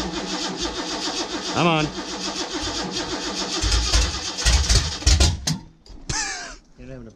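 A ranch engine after MSD ignition work cranks and struggles to start with its timing off, churning unevenly and loud up close while people talk over it and crows caw in the background.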